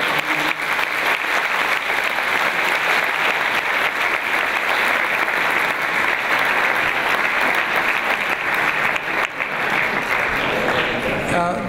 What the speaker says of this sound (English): give a round of applause to Maggie Gallagher and John